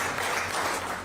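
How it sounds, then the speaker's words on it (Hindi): PMO staff standing in rows on both sides applaud to welcome Prime Minister Modi at his office, a dense, even wash of many hands clapping at moderate loudness for a brief stretch. "दोनों तरफ कतार में खड़े पीएमओ कर्मी तालियों से उनका वेलकम कर रहे थे"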